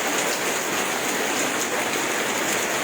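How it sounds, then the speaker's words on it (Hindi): Steady real rain falls during a thunderstorm, a dense continuous hiss of drops on surfaces with no voices, even and close throughout. "ये मुझे तो असली बारिश ही प्रतीत होती है।"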